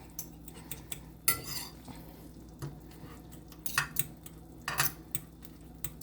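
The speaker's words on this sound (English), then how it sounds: "Smash the garlic up." Garlic being smashed into oil in a pan, heard as a series of scattered clinks and scrapes of a utensil against cookware, close and fairly quiet, with irregular taps spread across the moment.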